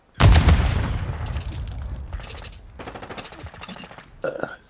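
In Call of Duty Warzone 2.0 gameplay, a heavy grenade blast booms and rumbles away, followed by bursts of rapid gunfire and another sharp crack near the end.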